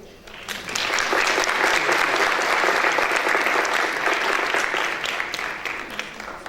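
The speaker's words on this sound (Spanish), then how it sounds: "Un aplauso, por favor." Sustained audience applause at an international forum on jaguar culture during a Latin American ethnobiology congress. Steady, dense clapping swells quickly, holds loud for several seconds and then eases slightly.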